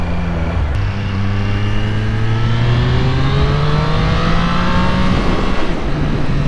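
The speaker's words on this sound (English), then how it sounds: "That engine sounds good, doesn't it?" A Triumph Street Triple RS motorcycle engine revs up, pitch climbing steadily in a smooth sustained rise after a brief blip, loud and close, then easing back near the end.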